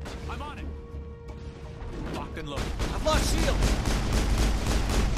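Assault rifle fire in the video game Mass Effect, a dense, loud burst of rapid shots layered with crashes and impacts over game sound, with a voice talking during the firing.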